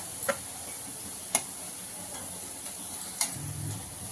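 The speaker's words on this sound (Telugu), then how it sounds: "ఇలా వేయించుకోవాలండి ఆనియన్స్" Onions fry in a pan with a soft, continuous sizzle, punctuated by three faint clicks of a spatula stirring against the metal.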